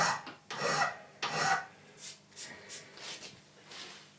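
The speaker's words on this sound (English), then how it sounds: "I actually like filing quite a lot." A hand file rasps across a metal angle grinder support, first in two long, loud strokes, then in a series of shorter, quieter strokes at an even pace, close by and without talk.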